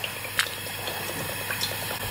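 Sunflower oil poured from a bottle into a pot for frying, a thin continuous trickle with a few small gurgles and glugs, close up and alone without talk.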